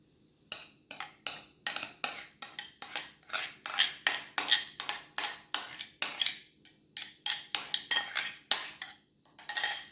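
Metal tongs clinking repeatedly against a pot or bowl while tossing cooked spaghetti noodles in carbonara sauce for a lechon sisig carbonara, a steady run of sharp, close metallic clicks and scrapes with no talk.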